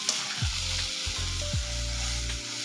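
Ambadi greens sautéing with onion in a pan, a steady close sizzle broken by a few scraping stirs of a spatula, with no one talking.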